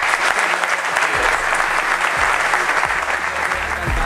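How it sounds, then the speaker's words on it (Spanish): An audience at a Galicia TT 2012 motorcycle event bursts into loud, dense applause for an honoree, a steady wash of clapping that holds at full strength throughout. "Un aplauso para Juan Manuel."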